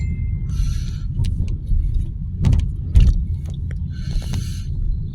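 Jeepneys, Philippine public utility vehicles, idle and rumble in street traffic near a market, with a steady low engine drone, a few rattling clanks and faint brake squeals overhead.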